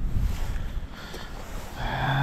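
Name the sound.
wind blowing on frozen lake while ice fishing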